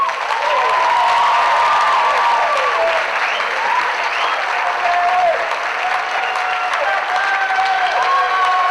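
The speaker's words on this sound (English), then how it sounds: "Let's give another round of applause for our technical presenters." An audience at a university theatre arts department graduation gives loud, dense, continuous applause that fills the room, with some cheering and whistles rising above it.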